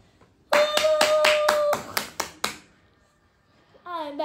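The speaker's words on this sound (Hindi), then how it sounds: "तो आपके भरपूर तालियों में बुलाते हैं मुन्नज़ा ज़ीशान को।" A small podcast audience welcomes a guest with about eight sharp, evenly spaced hand claps over a brief held tone. The claps stop, a short quiet follows, and a voice starts speaking.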